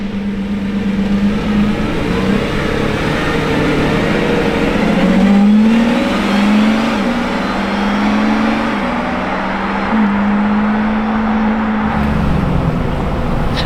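A Lamborghini Revuelto supercar engine drones steadily nearby, rising and falling in pitch through several revs and shifts over a continuous roar.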